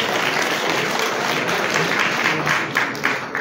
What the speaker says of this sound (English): Please clap for John Holly.